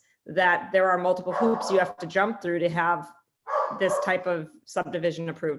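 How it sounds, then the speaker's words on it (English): A dog barks repeatedly in short bursts through a remote zoning board meeting, its yelps mixed with a person speaking. "so sorry about the dog. He wanted to participate."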